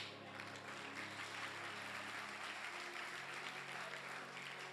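Church congregation clapping together, a dense, steady wash of applause holding evenly from start to finish, with a low hum sitting underneath.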